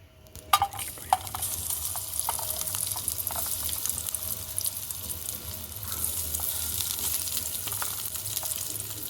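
Chopped onions tipped into hot oil in a large pan, with a sharp initial hiss and clatter that settles into a loud, steady, close sizzle with occasional stirring scrapes.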